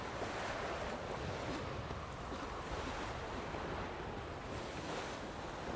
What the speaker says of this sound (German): Der Wind heult.